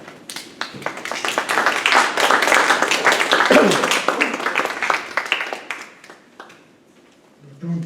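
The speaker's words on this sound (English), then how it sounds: "Don't clap for me." A church audience at an ecumenism lecture breaks into dense applause that swells for several seconds and then fades out, a clear burst of many hands clapping together.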